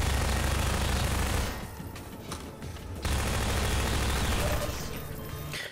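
Loud rapid SMG fire in Half-Life 2: Episode One, with dense bursts that drop off briefly midway and then return at full strength.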